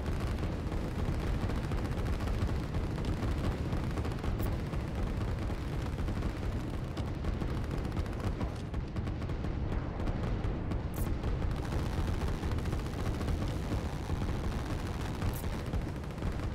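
Continuous rumbling gunfire and artillery in the Line War strategy game sounds as a dense, unbroken barrage of booms and crackles, loud and steady throughout, with no talking over it.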